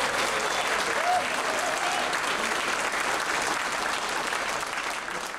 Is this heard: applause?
yes